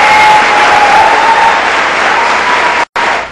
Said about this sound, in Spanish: Muy aplaudida fue recibida en su primera actividad en el país.